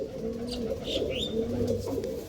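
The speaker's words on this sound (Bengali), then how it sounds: "সুপার কোয়ালিটি পায়রা আছে" Pigeons coo in repeated low rolling calls close by, with a couple of short higher bird chirps mixed in.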